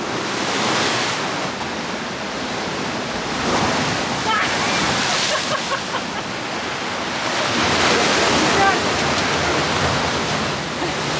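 Stormy sea waves crash heavily onto the shore in Montenegro, a continuous loud roar of surf with surging swells and wind noise, occasional faint voices beneath.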